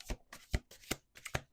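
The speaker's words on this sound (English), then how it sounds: "Let's do 2 more shuffles." Playing cards shuffled by hand in several quick riffling bursts, close and fairly quiet, with short pauses between each burst and no talking.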